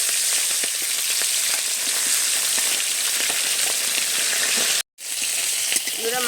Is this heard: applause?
no